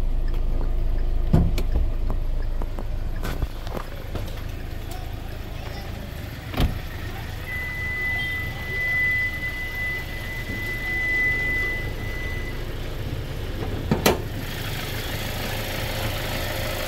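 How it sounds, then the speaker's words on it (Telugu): A 2021 Kia Sonet GTX Plus automatic idles with a steady low engine rumble throughout, while a few brief knocks and clicks punctuate the constant drone. "సింగిల్ సెల్ఫ్కి ఇంజన్ అనేది స్టార్ట్ అయింది"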